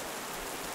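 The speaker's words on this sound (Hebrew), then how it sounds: "המים היורדים מן השמיים. זה גשם." Steady rain falling, a dense, even hiss of drops with no pauses or voices, brief and fairly quiet.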